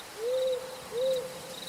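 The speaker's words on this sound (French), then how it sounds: "Le bruit de la forêt se faisait plus lourd." Night-time forest ambience: an owl gives two clear hoots close by over a soft, constant hiss of insects and crickets.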